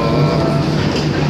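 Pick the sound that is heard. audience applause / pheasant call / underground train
underground train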